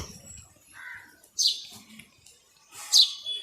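Small birds at a pigeon loft chirp in short bright bursts, two louder calls stand out clearly over quieter twittering and faint background sounds.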